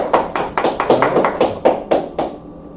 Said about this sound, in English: Alright, clap it up.